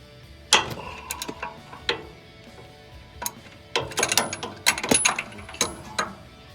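Ratchet clicking in quick uneven bursts while tightening a bolt on the suspension of a 1968 Oldsmobile 442, close and fairly loud, with short pauses between strokes.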